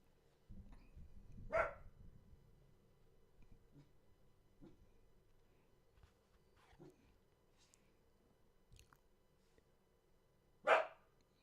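A dog gives two sharp, isolated barks several seconds apart, with a few fainter sounds between them and a quiet background.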